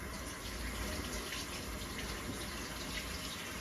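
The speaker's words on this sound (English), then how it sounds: "I constantly wash my hands." Hands are washed under a running kitchen tap while BBQ beef ribs are being prepared, a continuous, even rush of water splashing into the sink throughout, close and steady.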